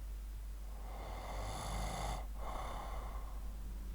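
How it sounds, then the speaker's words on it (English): A man snoring while asleep during a podcast recording, one long raspy inhaled snore building and fading over a steady low background hum. "That's a sleep snore."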